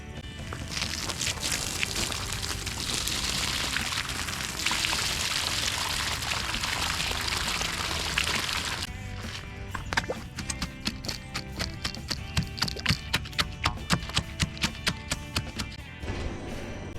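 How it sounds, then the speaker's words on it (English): Water poured into a post hole filled with dry concrete for a DIY greenhouse: a steady splashing pour for several seconds, then a run of rhythmic drips and taps as the flow breaks up, fairly quiet. "it works just as well to put the dry concrete in the hole and then just keep watering the hole for the next little bit"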